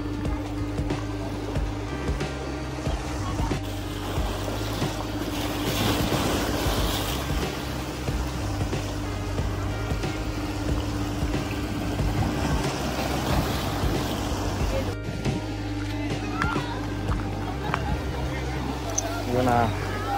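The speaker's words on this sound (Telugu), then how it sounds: "చూసారుగా చుట్టుపక్కల మొత్తం సముద్రం" Sea waves wash steadily around Haji Ali Dargah in Mumbai, a continuous broadband surge under wind and a distant boat motor, with a voice speaking over it throughout.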